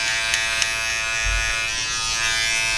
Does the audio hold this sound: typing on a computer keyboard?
no